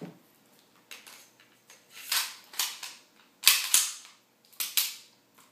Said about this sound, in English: that took me, what, 5 seconds to swap out my 9mm upper for a .22 caliber upper?